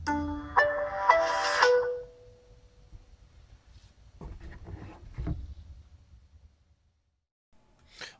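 Startup chime of a Samsung Galaxy S5 smartphone: a bright, melodic tone sequence rising over roughly the first two seconds, fairly loud and close, followed by faint handling noises and a brief blip near the end.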